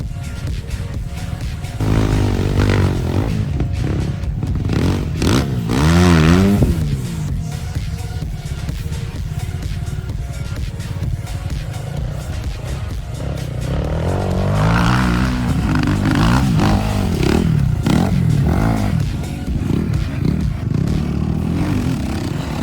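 Enduro motorcycle engines, including a Geon GNX, rev and whine loudly nearby in a race, rising and falling as bikes accelerate and pass, with rough engine noise throughout.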